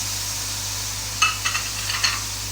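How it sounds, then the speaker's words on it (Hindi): Water, tomatoes and green chilies hitting chicken frying in a pan for Punjabi chicken karahi, a few quick bursts of sharp sizzling and stirring over a faint steady hiss. "अब मैं इसमें थोड़ा सा पानी शामिल करूँगी और साथ ही साथ हम इसमें टमाटर और ये ग्रीन चिलीज शामिल करेंगे"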